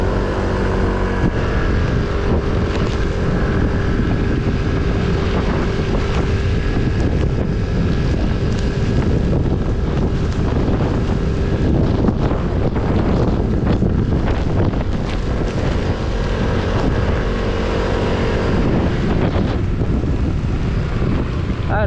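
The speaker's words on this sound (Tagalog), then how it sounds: "Pakalakas po ng hangin." Fierce typhoon wind under Signal No. 4 in Cabanatuan City roars loudly and relentlessly into the microphone, with a droning engine-like hum underneath throughout.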